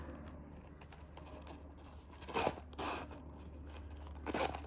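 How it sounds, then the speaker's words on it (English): A sticky zipper on a small Louis Vuitton key pouch is tugged in short, faint rasping pulls, two or three brief scraping bursts over a low steady hum. "I'm struggling with the zipper. It's a little sticky."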